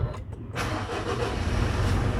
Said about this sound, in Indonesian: Sekarang kita coba hidupkan mesin ini.